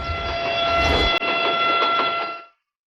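A train rumbles past on the railway with a sustained horn-like tone layered over clattering wheels, loud and near, cut by a brief gap before fading out abruptly.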